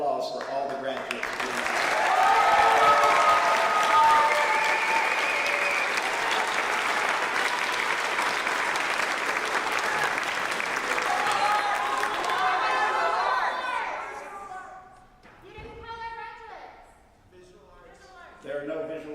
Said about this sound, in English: Let's give one last round of applause for all the graduates.